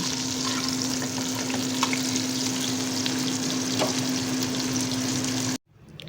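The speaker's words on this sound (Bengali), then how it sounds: "পেঁয়াজগুলো দিয়ে ভালো ভালো করে লাল লাল করে ভেজে নিলাম" Onions sizzle steadily in a hot pan with a little sugar for a Bengali crab curry, a close, even frying hiss with occasional stirring scrapes, cutting off abruptly near the end.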